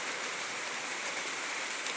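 Steady rain falls outdoors while a Lao fish stew is being cooked, a dense, even hiss of drops pattering on surfaces that holds at a constant level throughout with no talking.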